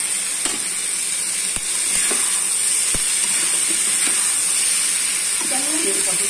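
Food goes into a hot pan and sets off a loud, continuous hiss and sizzle that stays steady throughout, with a few stirring knocks and faint voices underneath.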